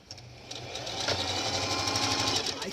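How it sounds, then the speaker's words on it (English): A domestic sewing machine runs steadily while stitching romper fabric, its fast mechanical whir and rhythmic needle chatter close and continuous, building slightly after a quiet start. "So I'm gonna sew"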